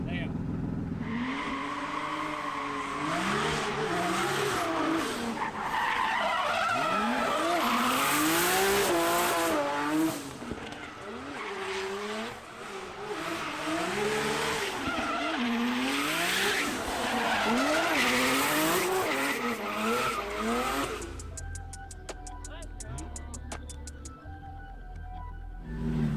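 Race car in a racing video game skidding and revving, engine pitch swooping up and down repeatedly under a talking voice, with tire squeal, then a quieter stretch of different game noise near the end.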